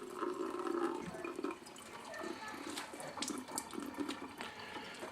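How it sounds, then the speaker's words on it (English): Water drains and drips from cooked hamburger meat in a strainer, a steady trickling splash with scattered drips, fairly faint and close, with no talk. "Yeah, let that drip down there. Get as much water out of it as you can."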